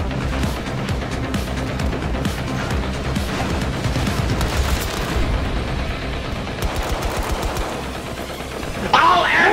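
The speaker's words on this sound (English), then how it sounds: "Throwing flashbang." Battlefield 2042 gameplay gunfire: dense, rapid bursts of automatic fire run continuously, with a sharp flashbang-like crack near the end.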